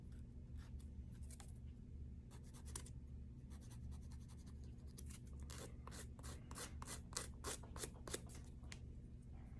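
Rough, rapid scratchy strokes of a nail file rasping back and forth on an acrylic nail, steady and close, over a low constant background hum.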